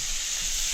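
Steak sears in a pan at about 320 degrees on a La Nordica wood cook stove, giving a steady, close hiss of sizzling with no pauses over a brief moment.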